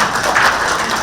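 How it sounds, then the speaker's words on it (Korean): Audience applause at a Korean environmental policy symposium as panelists are introduced, a dense, steady wash of clapping from a full room, loud and close with no voices over it. "그러면 제가 한 명씩 소개할 때 큰 박수로 한 명씩 해주시면 좋겠습니다."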